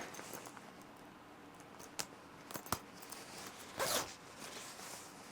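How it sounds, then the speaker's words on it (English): A Belstaff Brooklands jacket zipped up close by: a few sharp metallic zip strokes and small clicks, ending in a longer raspy pull, with no talk over it. "And zipped up."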